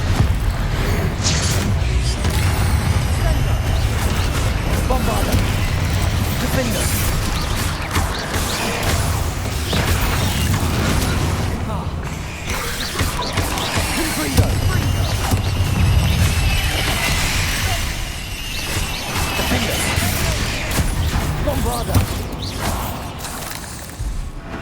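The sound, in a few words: Confringo blasting curse explosions in the video game Hogwarts Legacy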